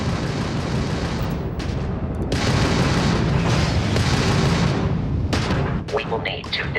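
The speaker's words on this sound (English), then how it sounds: "that's a Crimson Fleet ship bringing its weapons to bear" Crimson Fleet starship weapons opening fire during a space combat encounter in a video game, a dense, loud barrage of booming blasts and rumbling impacts that runs almost continuously, with brief gaps near the end.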